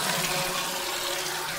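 Water running steadily from a garden tap in a backyard vegetable plot, a continuous broadband hiss close by, heard alone without talk or any audible shut-off.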